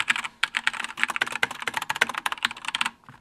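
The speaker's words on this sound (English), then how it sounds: "This is a cool keyboard though." Fast, continuous typing on a stock mechanical keyboard, dense clacky keystrokes in quick irregular bursts, close and clear with no talking.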